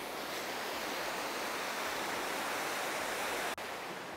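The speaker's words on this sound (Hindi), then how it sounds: "देखो ग्लेशियर का पानी मेल्ट होकर कितनी तेज रफ्तार में आगे बढ़ रहा है।" Glacier meltwater in a Ladakh stream rushes fast and loud, a steady, dense roar of water that stays unbroken throughout.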